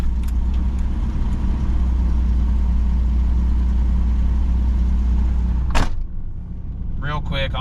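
Engine of a 1988 Toyota FJ62 Land Cruiser with about 290,000 miles running at a steady idle, a low constant rumble close by that cuts off near the end, followed by a brief voice.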